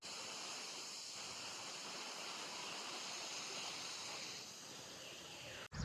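A river runs near farm fields, giving a steady, broad rushing of water that holds at a constant moderate level, then dips briefly just before a sharp handling knock at the end.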